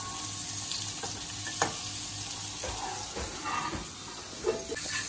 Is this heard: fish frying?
yes